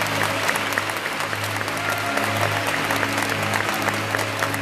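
Congregation at an evangelical church service claps steadily and densely throughout, a loud sustained wash of many hands with a low hum of voices beneath.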